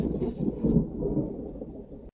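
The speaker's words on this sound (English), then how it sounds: "I'm sat by the door of Flare listening to the thunder" Low, continuous rumbling of thunder rolling on for a couple of seconds, steady and moderately loud with no voices.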